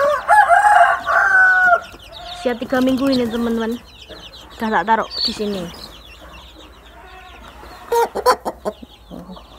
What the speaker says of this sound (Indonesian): ini contohnya DOC yang saya taruh di kandang pembesaran usia 3 minggu